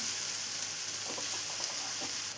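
Mushrooms fry in butter and oil in a pan over a medium flame, giving a steady, close, loud sizzle with a few faint stirring clicks and no voices.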